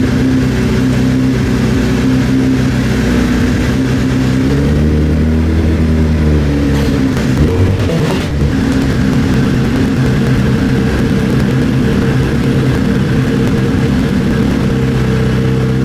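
A first-generation Suzuki Hayabusa motorcycle engine, recently repaired after a misfire and oil leak, runs steadily and loudly up close, with a low droning idle that briefly rises and dips in pitch midway.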